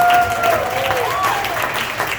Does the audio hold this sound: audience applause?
yes